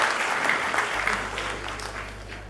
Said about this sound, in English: Can we give another round of applause to Ms.